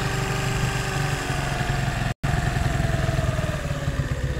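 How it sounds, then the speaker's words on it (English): A Zontes 125 motorcycle engine idles close up, loud and steady, with a low, slightly uneven throb and one brief dropout partway through. "I'm just trying to get the idle right because I messed with it last night"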